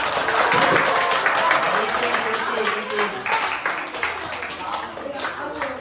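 Children at a church youth worship service clap for five friends, a brisk, dense patter of small hands that stays fairly steady, with voices and chatter mixed in throughout.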